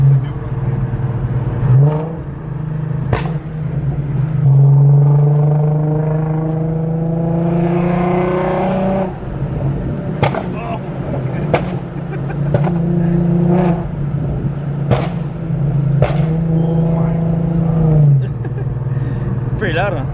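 A tuned Nissan 370Z running on E85 fuel revs up repeatedly, its engine climbing and falling in loud, close sweeps over a rumbling idle while people talk nearby.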